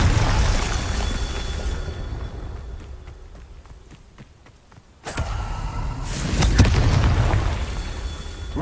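Fiery Confringo spell blasts from Hogwarts Legacy combat, with loud booming bursts at the start and again after a brief hush, layered over dense rumbling game effects.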